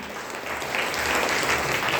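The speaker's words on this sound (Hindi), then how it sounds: "प्रिंस कुमार, एक जोरदार ताली होना चाहिए इसके लिए" Audience applause for Prince Kumar at a DXN business gathering, a steady dense clapping that swells slightly and holds throughout, with no voices over it.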